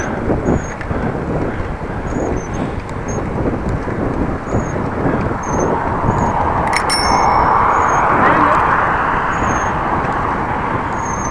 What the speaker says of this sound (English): Had to ring the bell